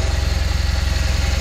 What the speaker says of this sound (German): Motor habe ich gerade angemacht.